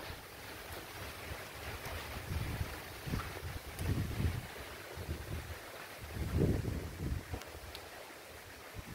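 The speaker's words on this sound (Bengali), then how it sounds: "এই মুহূর্তে ভালো হাওয়া চলছে চারিদিকে" Strong wind gusting during the landfall of Cyclone Remal in West Bengal, a steady roar with heavy buffeting on the microphone and louder surges partway through, no voices.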